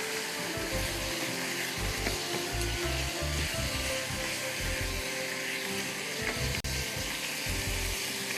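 Keema masala sizzles loudly and steadily in a hot pan, a constant close frying hiss with low rumbling bursts and one brief dropout near the end.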